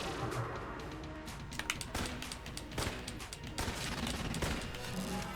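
Repeated sharp gunshots from a sniper rifle in the video game Enter the Gungeon ring out over busy game sound effects, fired in irregular bursts.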